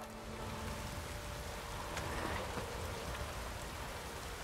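Steady heavy rain in The Witcher 3: Wild Hunt hisses continuously, a dense wash of falling drops with no voices.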